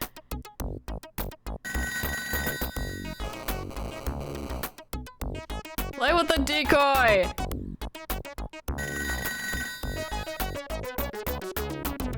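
Repeated electronic ringing of a telephone in the video game ToeJam & Earl, rapid and insistent over bouncy game music, with voices talking excitedly over it.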